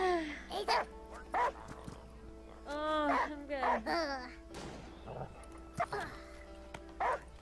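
Dog barking and whimpering in the video game Last Day of June, several sharp yips and whines spread across the moment, with someone talking over the game sounds in between.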